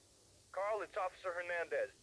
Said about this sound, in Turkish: Telefon çaldı bu arada.